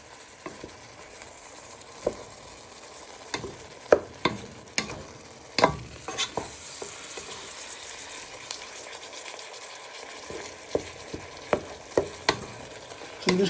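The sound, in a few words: stir-frying mushrooms and beef in a pan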